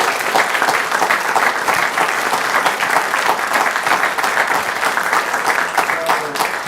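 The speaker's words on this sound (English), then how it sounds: "Let's give these boys and men a round of applause." A round of applause for a boys' golf team at a North Augusta city council meeting, dense sustained clapping from a room of people, fairly loud and steady with voices mixed in.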